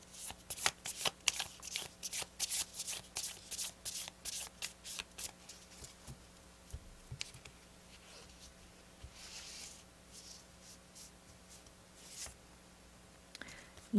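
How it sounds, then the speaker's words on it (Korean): Tarot cards are shuffled in quick, crisp bursts of riffling and flicking, followed by quieter sliding and tapping as cards are drawn and laid out, close up and fairly soft. "여러분의 어떤 조언의 카드 한번 뽑아볼게요."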